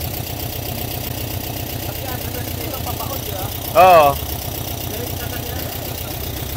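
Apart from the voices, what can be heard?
Volkswagen Beetle engine idling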